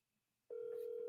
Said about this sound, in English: I'm finna try to call Brick right now to get confirmation of those two things